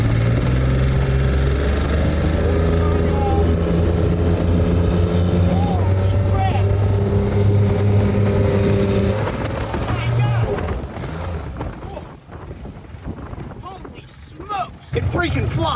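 A massive diesel outboard motor drives a tiny boat at speed, a loud steady droning engine with heavy wind buffeting and water noise that turns rougher and choppier near the end, with people talking over it.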